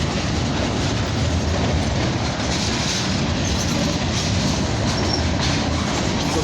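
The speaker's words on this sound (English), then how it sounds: "We're like almost at the end of the train. A very long train, I should say." A long CN freight train departing Dorval rolls past close by, its rail cars producing a loud, continuous clickety-clack and rumble with faint wheel squeal riding on top.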